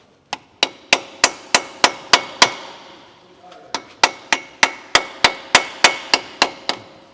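Steady hammer blows on the front cover of a Ford 4x4 truck, about eight regular strikes, a short pause, then a dozen more at the same even pace, close and loud with sharp metallic ring.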